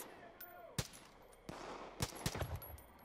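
Gunfire aimed at an armored enemy in Far Cry 5 on hard mode, several sharp, close shots spaced irregularly over a busy game soundscape, with a few rapid bursts near the end.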